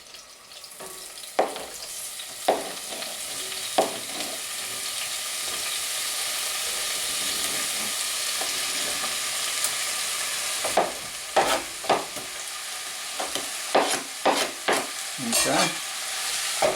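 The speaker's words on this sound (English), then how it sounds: "I always like to cook salsa in these enameled pots." Black bean and corn salsa sizzles and bubbles in an enameled pot, a steady frying hiss with intermittent stirring and scraping taps toward the end, and a brief spoken word near the start.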